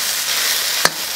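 About four jin of mixed seafood stir-fried in a pan give off a loud, steady sizzle with a single sharp clack of a spatula near the end.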